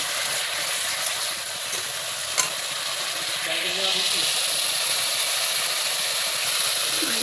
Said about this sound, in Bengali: তো পটলের গ্রেভি কষাচ্ছি